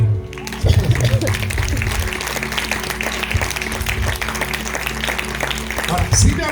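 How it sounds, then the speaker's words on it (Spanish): A church congregation applauds during a Spanish-language service, steady dense clapping running throughout with a voice over it. "Denle un aplauso al Señor."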